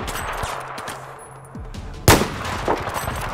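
Rapid gunfire from Battlefield 4 on Xbox One, a burst of quick shots followed by one sharp, loud report and further scattered firing amid game ambience.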